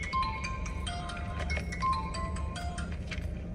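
A mobile phone rings with an incoming call, its bright electronic ringtone repeating in short melodic phrases at steady moderate volume over a low background hum, with no talking.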